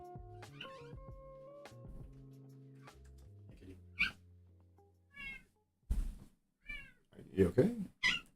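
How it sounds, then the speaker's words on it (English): A pet cat meows several times near the microphone, short rising calls in the second half after a stretch of quieter indoor sounds and soft voice-like tones. "I hear my cat."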